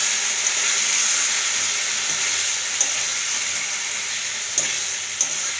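Cumin, coriander and black cumin tempering in hot oil for a potato fish curry, a loud steady bright sizzle throughout, with a few faint clicks from stirring.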